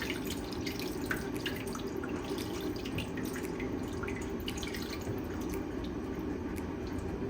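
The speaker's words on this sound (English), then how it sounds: "I'll be pouring in some hot water into the pan." Hot water splashes and trickles steadily into a baking pan of moi moi, a continuous bubbling pour with scattered drips, fairly quiet and without speech.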